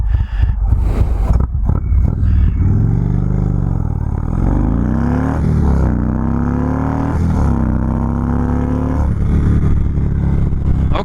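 An Indian Chief Darkhorse motorcycle, a big cruiser, accelerates hard from a standstill toward sixty, its engine rising in pitch through gear changes. Loud, close and continuous, the exhaust drone dips briefly at each shift before climbing again.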